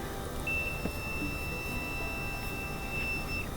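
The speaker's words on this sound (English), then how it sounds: "And we should get a beep." A multimeter's continuity beep sounds as a steady high tone while its probes touch the flame sensor on a Whirlpool dryer's gas burner, lasting about three seconds over a low hum of background noise.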